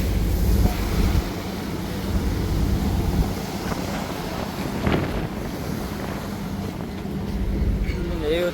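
A passenger launch's engine drones steadily under heavy wind buffeting and rushing river water, with a voice speaking faintly through the noise.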